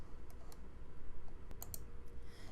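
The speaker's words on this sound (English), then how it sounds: "you can create a custom date range by clicking the custom range link on the left-hand side" A computer mouse clicks several times through a Google Scholar search page, with short, sharp, close clicks spaced irregularly over a low, steady background hum.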